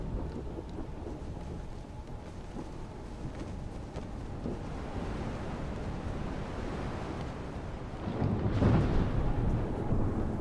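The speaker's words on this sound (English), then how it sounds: "A storm throws itself over your vessel, shredding canvas and splintering timber." Stormy sea in the video game Book of Travels: steady roaring wind, rain and crashing waves, with a louder thunderclap or surge swelling near the end. No voices.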